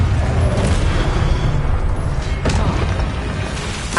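A Confringo blasting spell explodes in the Hogwarts Legacy video game, a loud, dense, continuous roar of blasts and rumble filling the whole moment, with a sharper crack partway through.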